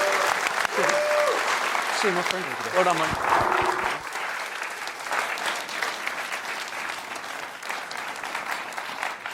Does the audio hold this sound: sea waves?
no